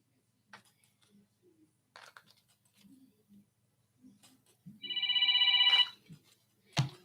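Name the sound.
telephone ringing for a radio call-in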